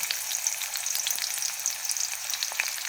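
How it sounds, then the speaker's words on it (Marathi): Onions crackle and sizzle briskly in hot oil in a wok, a dense steady frying sound with light stirring scrapes, close and continuous, no speech. "आता आपण कढईमध्ये आता टाकणार आहे याच्यात कांदा"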